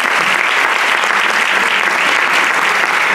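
An audience at an anniversary presentation in a cultural centre applauds, steady dense clapping that fills the room loudly and continuously without a break.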